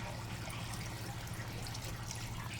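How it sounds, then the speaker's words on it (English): Chicken broth poured over turkey wings and legs in a pot on the stovetop, a faint steady liquid trickle and splash with low background hum. "I have a little bit of broth left and I'm going to put it on there."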